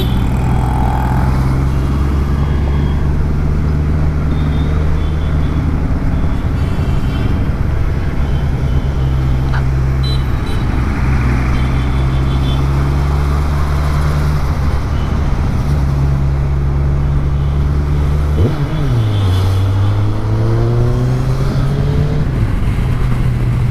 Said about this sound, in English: This car wants to race the bikes.